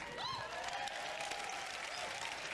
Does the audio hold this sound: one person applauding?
yes